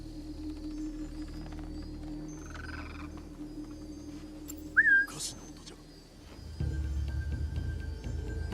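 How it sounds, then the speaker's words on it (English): A short rising whistle in a stealth video game, used to lure an enemy closer, stands out once over steady ambient game noise and a low drone. "I can whistle, get him to come over"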